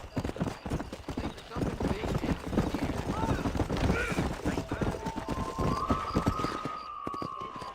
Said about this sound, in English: Mount to your horse